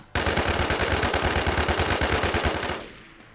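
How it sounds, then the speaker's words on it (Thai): Sustained automatic burst from an IMI TAR-21 rifle in the video game Infestation: rapid, evenly spaced shots rattle loudly for about two and a half seconds, then cut off abruptly into quiet. "แล้วลองเล็งไปข้างหน้าเดี๋ยวให้ให้สัญญาณแล้วยิงพร้อมกัน"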